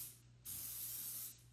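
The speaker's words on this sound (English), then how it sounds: "we're gonna spray our iron" Cooking spray hisses onto a keto chaffle waffle iron in one steady burst of about a second, close and fairly quiet, with no talking.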